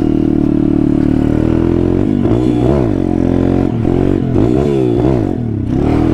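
An SSR 140cc pit bike engine revs loudly and close while being ridden on a trail, its pitch rising and falling repeatedly with throttle changes.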